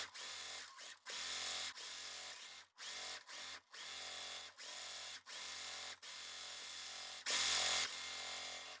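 A sewing machine stitching quilt block pieces runs in repeated bursts of steady whirring motor noise, separated by short pauses, with one louder, brighter stretch near the end.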